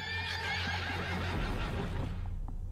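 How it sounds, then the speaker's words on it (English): A horse whinnies in a forest at night, one long high neigh over a dense rumbling background that fades toward the end. "Is that a horse?"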